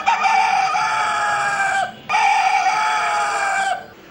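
A pet rooster from Anchalumoodu, Kollam, crows twice in a row: two long, loud, close calls of nearly two seconds each, separated by a short pause, with no other sound.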